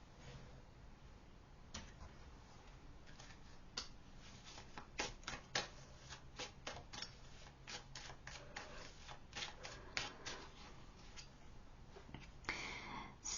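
Tarot cards being shuffled and drawn, a quiet, close series of crisp slaps and flicks at an irregular pace, with a quicker riffling flurry near the end.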